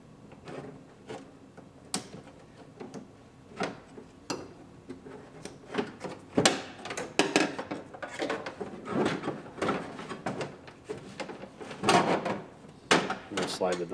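Clicks, knocks and plastic-metal rattles from a door lock assembly being slid out and pulled free of a Buick Enclave car door, a busy run of close, sharp handling noises with some talk mixed in.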